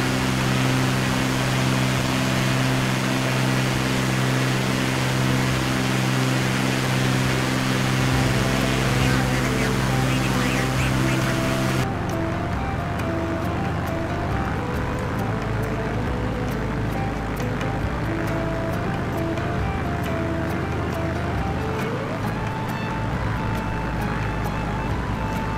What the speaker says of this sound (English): Let's take a good listen to the sound of the plane and take a little tour around the island.